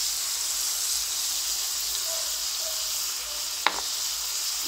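Sisig, pork with pepper, salt and soy sauce, sizzles steadily in a pan as it is mixed, a loud even hiss close up with one brief sharp utensil clank near the end.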